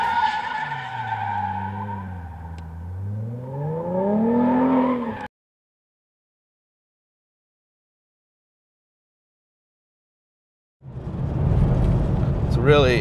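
A 2011–2014 Ford Mustang GT with a Borla exhaust drives by, engine note rising and falling with tire squeal, then cuts to silence before a second loud burst of engine roar.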